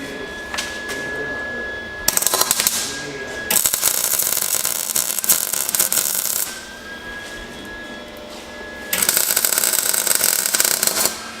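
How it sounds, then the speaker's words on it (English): Tack welding on a broken exhaust pipe, with bursts of crackling, sizzling arc noise lasting a second or two each, separated by quieter stretches of a steady background hum. "I'm just gonna give this a couple tacks just to get it in where I want it"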